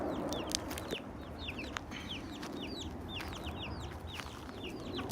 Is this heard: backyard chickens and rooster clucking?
yes